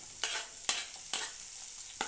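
Finely chopped onion and crushed garlic frying in a little hot oil in a pan, stirred in four evenly spaced scraping strokes over a faint, steady sizzle, close and with no talking.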